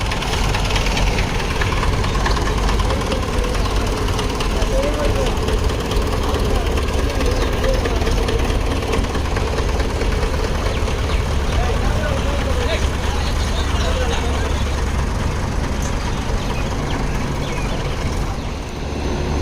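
A loud, steady Mahindra tractor engine drone at a sugar mill runs throughout, close by and unbroken, with a low rumbling hum and no pauses.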